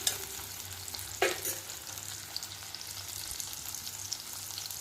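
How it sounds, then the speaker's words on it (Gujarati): Ingredients for ridge gourd sabzi are sautéed in a pan. A quiet, steady sizzle runs throughout, with a brief clatter of stirring near the start. "આછું ગુલાબી રંગનું થાય ત્યાં સુધી આપણે એને સોતે કરીશું."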